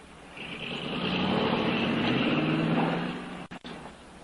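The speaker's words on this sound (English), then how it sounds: "I think I hear a car coming." A car comes along a detour road, a broad engine and tyre rumble that swells steadily, holds for a couple of seconds, then fades and cuts out briefly near the end.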